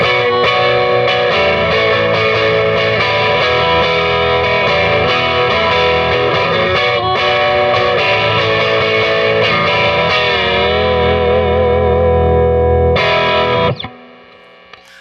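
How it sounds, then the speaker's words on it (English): Johnny Marr Fender Jaguar electric guitar with its bridge humbucker and neck pickup wired in series, played loud and sustained with distortion and effects, ringing chords for about thirteen seconds before cutting off into a faint decay; no talking. "And now our giant humbucker, the bridge pickup, and the neck pickup in series."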